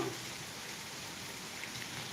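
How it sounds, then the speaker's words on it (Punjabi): Heavy rain pours down on flooded streets in Jallowal in a steady, dense hiss, fairly quiet and unbroken, with no voices. "ਬਾਰਿਸ਼ ਹੈ ਜਾਂ ਕਾਫੀ ਤੇਜ਼ ਹੋ ਰਹੀ ਹੈ"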